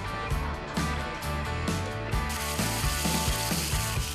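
Korean hanwoo beef sizzling on a grill at a busy restaurant, a loud steady hiss close to the listener with faint clinks and a low hum underneath, and no talking.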